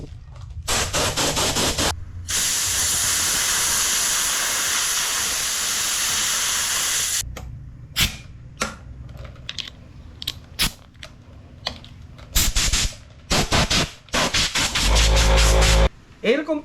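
A Predator 2200 W air compressor, powered from a generator, runs with a loud steady hiss and roar for several seconds, then cuts out into a series of short, sharp bursts and clicks.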